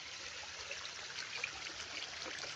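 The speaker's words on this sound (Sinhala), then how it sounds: "සීතල ප්‍රදේශයක ලස්සන වතුර පාරක්." A mountain water stream running through a cold region, a steady continuous rush and trickle heard near and alone, with no voices.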